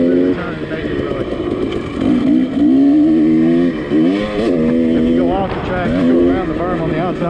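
A KTM 300 two-stroke dirt bike rides a fast flowing off-road trail in Central Texas, its engine revving up and down in rising and falling pitch sweeps, loud and close, with wind buffeting throughout.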